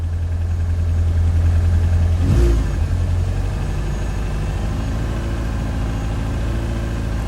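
A Mini Cooper R50 idles steadily after a fuel filter replacement, its engine running on cold with slightly noisy valves. A low, even hum holds throughout, broken by one brief thump near the middle.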